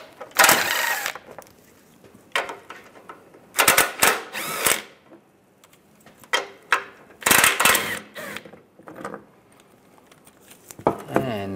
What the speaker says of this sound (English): I'm going to remove these four bolts underneath. We need to remove the shield. Use a 15 millimeter socket.